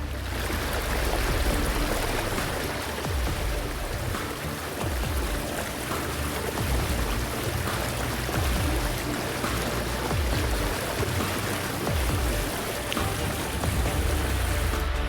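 Floodwaters of the overflowing Paila, Desbaratado and Güengue rivers in northern Cauca rush in a loud, steady, unbroken roar with no voices throughout.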